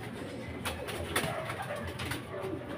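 Racing pigeons cooing during a race on Camiguin Island, soft low coos close by, mixed with light rustling and faint background voices.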